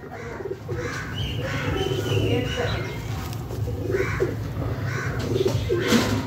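A male pigeon coos in repeated low, throaty rolls close to the microphone, under steady background noise, while someone talks over it.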